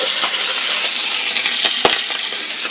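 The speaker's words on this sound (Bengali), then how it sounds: "তাই এখন তাকে ভাত ভেজে দেবো খাওয়ার জন্য" Rice fries in a pan with plenty of onion, oil and chili, giving a steady, close sizzle with a few sharp clinks partway through.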